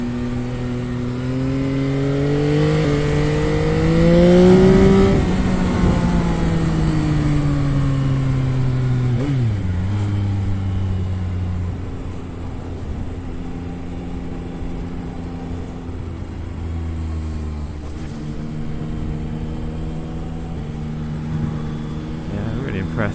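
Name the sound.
Yamaha XSR 900 motorcycle riding and changing gears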